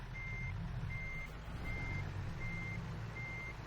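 Reversing alarm on a Peterbilt sleeper truck hauling a milk trailer in American Truck Simulator, five evenly spaced steady beeps repeating over a constant low diesel engine rumble, clear and close.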